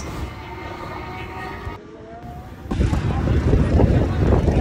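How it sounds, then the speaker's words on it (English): A tram at a Formula One event rumbles along with a steady low drone and faint squeal, then the clatter of the ride grows louder and rougher near the end. "Yes, we rode a tram"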